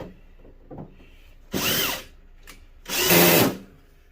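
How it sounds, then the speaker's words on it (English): A power drill drives screws back into the casing of an old CRT television in two short, close bursts of whirring, with quiet handling noises in between. "just put our screws back in to keep the TV together"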